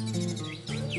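An orange-headed thrush, a highly excitable bird kept in a home with more than two others, sings a near, loud, continuous run of varied chirps and whistles over a steady background hum.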